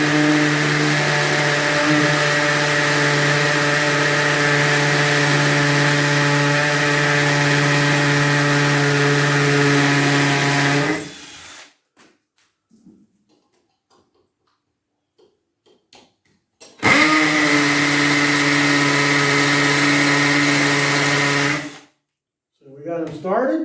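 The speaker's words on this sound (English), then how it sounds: "Then we finish drilling the holes." A power drill boring holes for electrical outlets runs loud and steady for about ten seconds, stops for several seconds of near silence, then runs again before cutting off.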